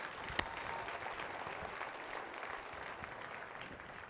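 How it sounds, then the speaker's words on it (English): A Sacramento downtown audience claps steadily at a civic State of Downtown address, the applause sitting at a moderate distance and holding even for about four seconds, with one sharp clap standing out early. "You can clap at that one"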